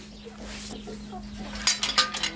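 A rooster and bantam chickens cluck softly nearby with a steady low hum underneath, followed by a few brighter, sharper bursts toward the end.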